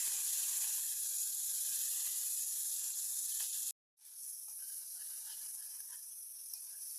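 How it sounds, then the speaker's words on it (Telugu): Tomatoes fry in hot oil with a steady, close sizzle and hiss that cuts out for a moment before continuing. "ఆ టమాటా బాగా మెత్తగా వేగిపోయేంత వరకు బాగా కలుపుకొని వేయించుకోవాలి"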